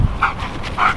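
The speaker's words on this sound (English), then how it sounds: "Cute dog, man." A dog gives two short whimpering yips outdoors near a lake on a camping hike, close and moderately loud against a quiet background.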